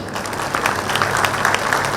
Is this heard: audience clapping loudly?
yes